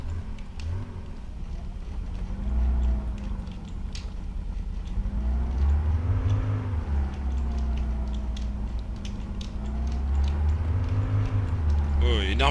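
A petrol truck engine in the game Altis Life drones and surges steadily as the truck drives, low rumbling revs rising and falling, with someone talking over it throughout.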